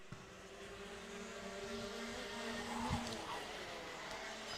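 Rotax Max racing karts at a national karting championship, a steady engine drone with a kart whining past partway through, heard at moderate distance under background crowd or commentary noise.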